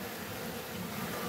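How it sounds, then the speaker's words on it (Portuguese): Uruçu Amarela stingless bees from the Atlantic Forest swarm around an open honey pot, giving a dense, steady buzzing hum that stays close and even for just over a second. "Essa aqui, pessoal, é a abelha Uruçu Amarela, uma abelha da Mata Atlântica, uma abelha sem ferrão"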